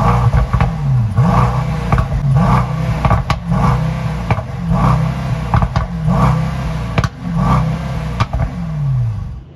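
Engine of a 2022 Mercedes E63S AMG, heard up close in a series of repeated revs that rise and fall in steady pulses, with no talking.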